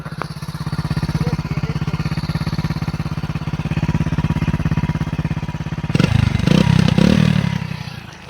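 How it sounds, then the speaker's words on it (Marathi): A 2011 Hero Honda Splendor motorcycle engine runs close by with an even, rapid firing beat that turns louder and rougher near the end, with no voices over it. "फायरिंग ऐकू शकता भाऊ"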